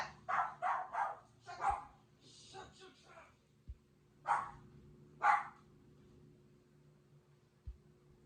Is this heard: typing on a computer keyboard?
no